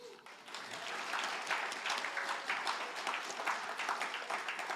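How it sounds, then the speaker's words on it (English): An audience at the Zenyasai kick-off concert of a cherry blossom festival applauds, a dense, sustained wash of clapping that holds steady throughout at moderate distance. "So please join me in giving a big round of applause to the Forces Club."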